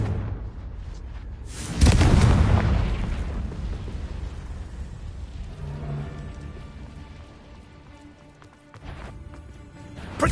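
A Confringo fire spell blasts off in a Harry Potter video game, a loud broadband burst about two seconds in that swells and rumbles away, followed by lighter crackling combat noise.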